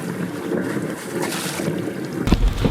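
A boat engine runs at sea with water coming from the exhaust, heard under strong wind buffeting and water noise, with a louder splashing burst near the end.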